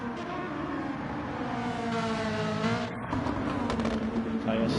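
Group 5 race cars on the Nuremberg GP circuit in a racing game, a continuous engine drone with rising pitch sweeps as cars accelerate, mixed under faint commentary.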